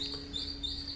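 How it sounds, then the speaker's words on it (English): Outdoor birds chirp softly in nature while a handpan is played: a faint, thin twitter repeats over a steady sustained ringing tone, quiet and distant throughout. "When I play the handpan in nature, the birds start singing."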